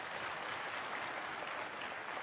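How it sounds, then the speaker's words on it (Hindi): Sustained crowd applause at an outdoor political rally in Bihar, a dense steady wash of many hands clapping continuously with no break. "ऐसे युवाओं की हौसला अफजाई के लिए जोरदार तालियां।"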